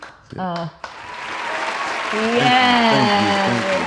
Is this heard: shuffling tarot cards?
no